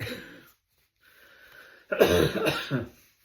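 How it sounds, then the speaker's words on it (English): A person coughs a few times, harsh and close, with a brief quieter rasp before a louder cluster of coughs. "Still got that cough, guys."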